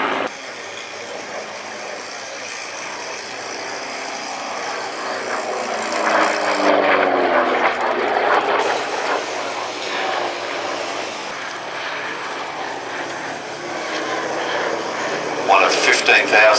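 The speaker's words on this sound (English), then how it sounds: "Look at that B-17." A Boeing B-17 bomber's radial propeller engines drone past at an air show, a throbbing roar swelling as it nears midway and then easing off, with voices of spectators and an announcer talking over it.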